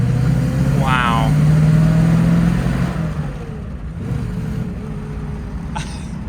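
Engine of a nearly 100-year-old Mercedes car heard from inside while riding, a loud steady low drone that eases off partway, with people talking over it.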